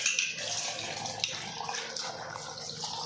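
Clean water pours from a tap into a vessel of two-day-soaked rice for washing, a steady splashing rush that runs without pause and stays close and moderately loud.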